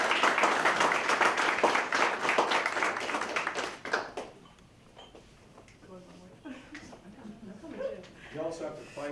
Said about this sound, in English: How about a round of applause for Morgan?